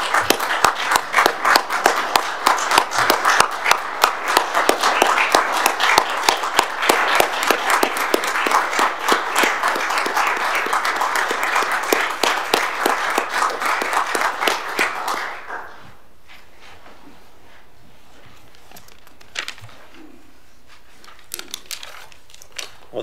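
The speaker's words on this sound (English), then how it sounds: "let's please give them a standing round of applause" A meeting-hall audience at a city commission meeting rises in a standing ovation, a loud, dense round of clapping that holds steady for about fifteen seconds and then stops abruptly, leaving a quiet room with only a few scattered faint sounds.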